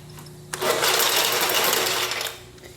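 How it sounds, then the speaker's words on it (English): A step drill bit cutting and beveling a hole in metal during a welder cart build, a sharp, steady, high whirring grind that starts abruptly and runs for about two seconds before stopping. "So these step bits, they really work nice"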